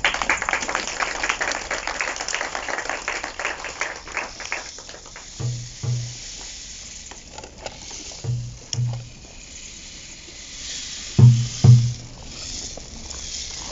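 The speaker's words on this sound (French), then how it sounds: "Nous applaudissons bien fort." An audience claps loudly, a dense patter of many hands that tapers off after several seconds into scattered claps and a few low thumps.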